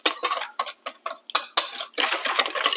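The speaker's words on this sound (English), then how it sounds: "Since this is a cake, we do want to mix things well, so I'm using a whisk." A whisk beats cake batter in a bowl with rapid, close, crisp ticking strokes against the sides, coming in short bursts and then a continuous run.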